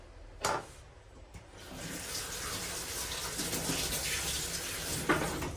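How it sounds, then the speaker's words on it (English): Food being rinsed under a running kitchen tap while making Jamaican plantain and oats porridge, a steady rushing stream of water that builds after a couple of brief knocks and runs on without pause. "What I'm going to do, I'm just going to rinse it off."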